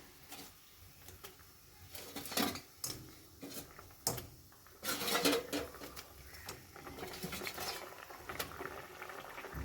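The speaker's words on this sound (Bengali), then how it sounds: "ফুটে গিয়েছে, আমি এবার মাছগুলো সব দিয়ে দিচ্ছি।" Fish pieces going into a pot of boiling Bengali mustard gravy for fasa fish curry, giving bursts of sizzling, bubbling hiss with clatter of pot and utensils between quieter simmering stretches.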